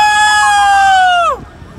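A voice imitates a rooster crowing, "kukuruku," one loud sustained call that rises and holds before dropping off sharply at the end.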